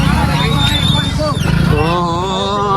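A group of motorbikes ridden out toward the desert, a steady loud engine drone with shifting whine close by, with people talking over it throughout.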